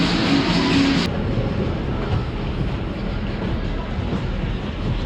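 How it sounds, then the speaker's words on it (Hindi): A train rolls past at a busy attraction in Almaty, Kazakhstan, a loud, steady rumble with rhythmic clatter that stays close and constant throughout, with no talk over it. "तो ये है रेलगाड़ी भाई।"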